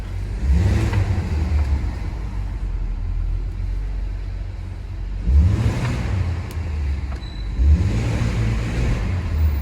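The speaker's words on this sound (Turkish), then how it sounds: "Şimdi biraz şu kapalı otoparkta sesini bir dinleyin. Araba hemen sardırmaya nasıl başlıyor." A BMW E39 engine, warm, revs repeatedly in an enclosed parking garage, three low rumbling surges rising and falling over a steady idle, fairly close and loud.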